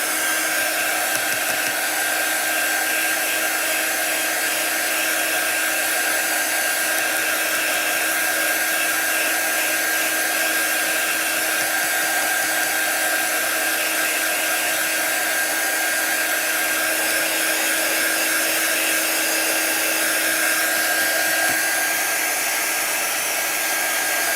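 A dryer blows to dry chalk artwork, a loud, continuous, even whine that holds steady throughout with no voices.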